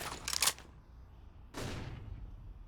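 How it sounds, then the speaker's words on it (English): Gunfire in Counter-Strike: Global Offensive during a competitive Overpass match, with two short bursts of shots, one early and one after a pause, somewhat distant and moderate in level. "They're echolocating a lot of these players by the sound of their gunfire"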